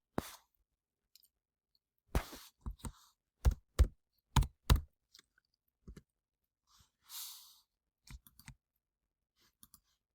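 Sparse clicks and taps in short bursts and pairs, separated by silences, close and fairly crisp, like intermittent keystrokes with no one talking.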